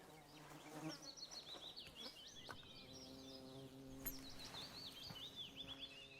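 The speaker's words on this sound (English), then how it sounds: "A big bee or something back there?" A big bee buzzes in the game Runo, its wavering drone close and steady, with faint birdsong and ambient tones in the background and no talking.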